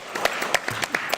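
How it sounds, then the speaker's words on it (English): A round of applause from people attending a city council budget hearing, with a thin patter of scattered, individually audible claps at fairly close range. "everybody take a deep breath and give yourself a round of applause"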